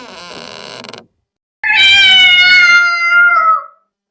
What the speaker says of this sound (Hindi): अरे ये बिल्ली कहाँ से आ गई?